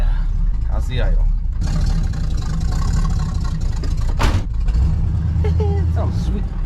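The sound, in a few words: squarebody truck engine idling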